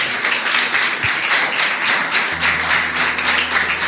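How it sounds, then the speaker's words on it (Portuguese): A church congregation applauds during a sermon, a full, steady round of clapping from many hands that lasts about four seconds, with a low hum entering partway through. "Vamos aplaudir Jesus bem forte."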